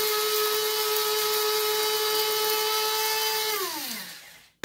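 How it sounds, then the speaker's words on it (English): Spice grinder whirring steadily as it pulverizes coriander, fennel and cardamom seeds, a loud continuous motor hum that winds down near the end and stops abruptly. "Just make sure that all those coriander, fennel, and cardamom seeds are ground properly."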